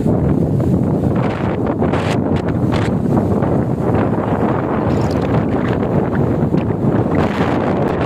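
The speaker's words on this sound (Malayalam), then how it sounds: "ഒരു രക്ഷയില്ലാത്ത കാറ്റാണ്" Strong wind at the Chitharal Jain temple roars and buffets the microphone continuously, a dense rumbling rush with gusty surges and no voices.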